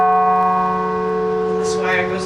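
The D bell of the Gloucester carillon, struck and left to ring, a steady sustained tone with long-held overtones fading slowly, heard close and loud.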